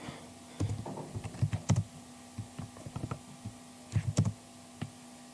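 Typing on a computer keyboard while filling in an online freelance account form: irregular bursts of close, crisp key clicks with short pauses between flurries, alone over a faint steady hum.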